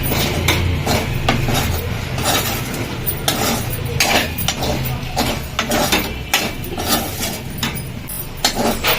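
A spoon stirs chili powder into a curry on low flame, making repeated metallic scrapes and clinks against the pot in an uneven rhythm, close and clear.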